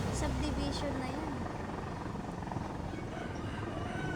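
Helicopter flying over a hillside subdivision near the Payatas mountain in the Philippines, its steady rotor drone fairly distant and continuous while voices talk over it.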